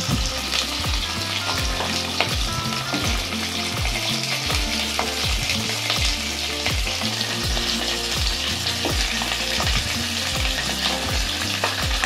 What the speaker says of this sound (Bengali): আমাদের যে মাছের মাথাগুলো আছে সেগুলিকে আমরা এক এক করে ভেজে নেব।